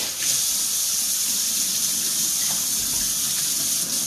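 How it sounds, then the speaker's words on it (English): Tap water runs steadily into a kitchen sink while hands are rinsed, a close, constant splashing hiss with no speech. "I'm going to again rinse my hands"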